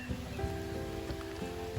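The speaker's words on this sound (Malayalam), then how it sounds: "ഇപ്പൊ മഴ ചെയ്തില്ലേ, അടിപൊളി മഴ." Heavy rain falling beside an overflowing river, a dense, steady wash of close patter filling the whole short stretch with no voices.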